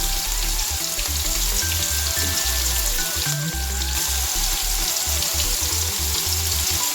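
A plantain and egg mixture seasoned with curry powder frying in a pan, giving a loud, continuous close-up sizzle with a few faint clinks over it.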